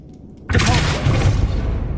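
Spell blasts from Confringo and Expelliarmus in the Hogwarts Legacy video game, a sudden loud whooshing burst that erupts after near silence and sustains as a dense booming crackle.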